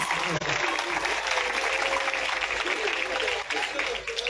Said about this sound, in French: Je vous prie d'applaudir encore une fois